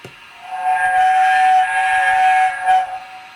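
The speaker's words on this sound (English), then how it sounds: "Brakes, horn, whistle rather, short one." A short, shrill steam-style whistle blast from a Hornby Silver Fox model train lasts about three seconds, with a slight dip midway and a brief swell just before it cuts off.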